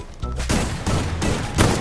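A Titan shotgun fires in a video game, with about four heavy, booming blasts in quick succession, loud and close.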